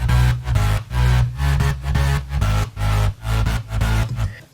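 Progressive house bass line with an added mid-bass layer pumps steadily in a four-to-the-floor groove, loud and dense, with sidechained swells between kicks and no talking.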